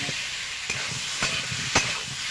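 Fried potatoes are tossed and sautéed in a spice paste, a dense continuous sizzle with a few spaced scraping strokes of the spatula cutting through.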